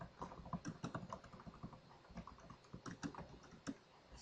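Someone types at a steady pace on a computer keyboard, entering text into a task field. The keystrokes are clear and close, with short pauses between bursts, and no voices are heard.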